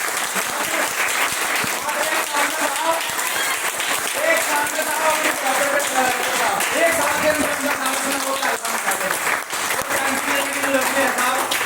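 An audience at a travel marketing company event applauds continuously and loudly, dense clapping with a faint voice and crowd murmur underneath.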